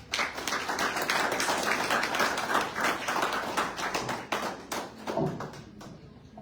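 An audience applauds warmly to welcome engineer Elena Ríos Ortiz at a book presentation in the Casa de los Empresarios. Dense, steady clapping fills the room, then thins out and fades toward the end.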